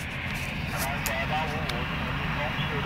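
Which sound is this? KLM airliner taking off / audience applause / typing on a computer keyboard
KLM airliner taking off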